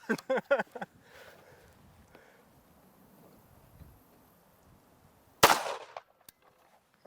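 A single loud, sharp shot from a WWII Japanese handgun rings out at an outdoor range, preceded by a few quick cracks and followed by a brief decaying echo.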